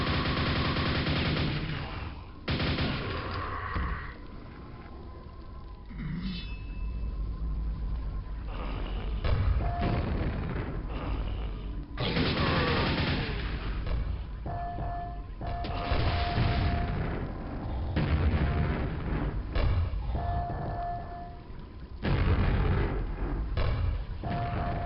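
Repeated gunshots and booming grenade blasts from the PC shooter Quake hit in heavy bursts throughout, separated by brief lulls with thin electronic tones.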